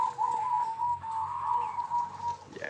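A zebra dove (perkutut) coos at a bird farm, giving a sustained run of soft, rolling, trilled notes close by, with faint ticking in the background and no talk.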